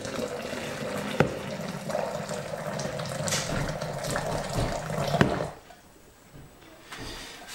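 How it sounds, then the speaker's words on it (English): Boiling water is poured into a thermos for Easiyo yoghurt, a close, steady splashing gurgle that runs for several seconds before fading to quiet. "So we're adding boiling water just the top of the red holder in the thermos"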